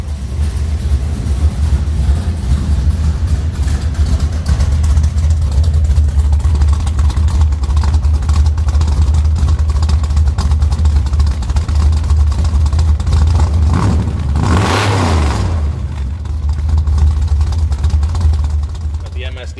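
An old rusty truck engine runs with a freshly set timing, new distributor and coil, and an unadjusted carburettor, producing a loud, steady low rumble for nearly twenty seconds with a brief surge near the end.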